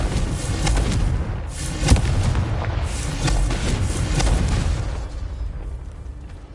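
Loud booming blasts from the Confringo fire spell in the Hogwarts Legacy video game, a heavy rumbling explosion with a sharp crack near the middle, then a lingering roar that slowly fades.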